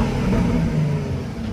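A Jaguar F-Type convertible engine rumbles at a steady, loud idle after its exhaust valve is opened, with a deep low drone and no talk.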